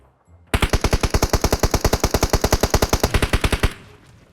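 Sustained automatic gunfire from the mobile battle royale game PUBG Mobile: a loud, close, rapid burst of evenly spaced shots lasting about three seconds, then stopping abruptly, with no voices.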